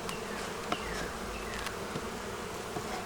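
Honey bees buzz around an open hive in a neglected bee yard near Savannah, Georgia, a steady close swarm hum with individual bees droning past, and no talking.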